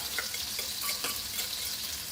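Food sizzles steadily in a hot pan with light scraping and clicks of stirring, close and continuous, no voices.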